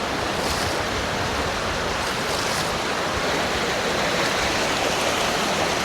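Steady rushing of shallow river water as someone wades through a trout stream, a dense continuous wash with some wind noise, close and loud throughout with no voices.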